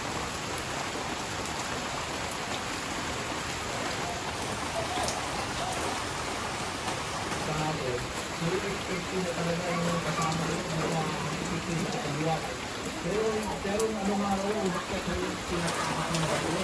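Heavy rain pours steadily onto surfaces during Typhoon Pepito in the Philippines, with strong wind, in a constant loud hiss and patter, while a voice talks faintly underneath.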